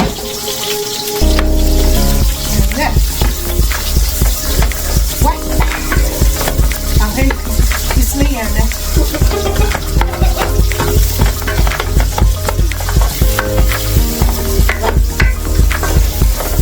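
Onion strips frying in a pan for a French home-style braised beef with vegetables, a steady loud sizzle with crackling and stirring throughout, close up and without talk.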